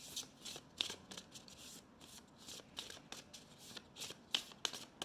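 Oracle cards being shuffled and handled, a run of quick crisp riffling flutters and slaps in uneven bursts, close and quiet with no talking.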